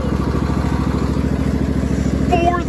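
A junkyard Craftsman riding lawn mower, over 22 years old, runs steadily in gear, its engine chugging loud and close in an even rhythm, with a brief squeak near the end.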